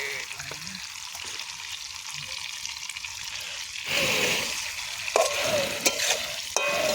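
Potatoes frying for Kashmiri aloo dum: a soft sizzle at first, then a louder burst of hissing as more goes into the hot pan, followed by several clattering stirs, with no talk.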